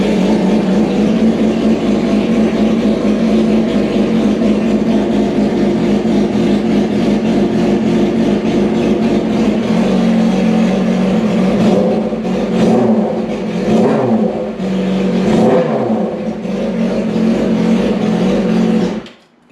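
A 2007 Yamaha R6 motorcycle with cylinders dropping out at idle runs loud and close. It idles in a rough, uneven rhythm, then gets several short throttle blips before it cuts off.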